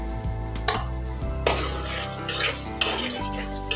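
Thick masala for paneer butter masala sizzles in the pan as it is stirred, with scraping and clinking of the spoon against the pan over continuous frying and background music.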